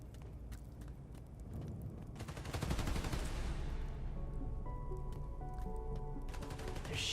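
Gunfire in the Spider-Man: Miles Morales video game, a dense burst of rapid shots building to a loud, sustained barrage in the middle, with scattered impacts and a renewed flurry at the end.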